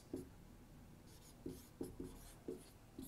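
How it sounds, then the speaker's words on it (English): A marker squeaks against a whiteboard in short separate strokes, about six quick scratches spaced apart, close and clear in a quiet room. "I will write here just because I feel compelled to write something on that board."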